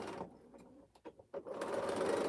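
A sewing machine back-stitches a quilt border, starting with a steady close whir, then stopping and starting in short jerky bursts before running smoothly again.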